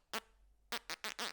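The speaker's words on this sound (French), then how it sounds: "T'as pété un petit coup" A fart sound effect: one short burst, then after a pause a rapid run of four or five brief, loud sputtering blasts.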